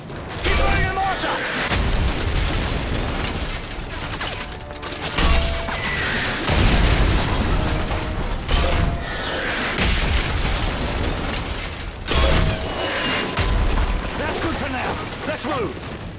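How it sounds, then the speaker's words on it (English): Mortar fire and explosions in the Xbox 360, PC and PS3 shooter Modern Warfare 3, with repeated heavy booms and crashes over continuous battle noise, while voices shout among the blasts. "Use the mortar and hose those bastards down!"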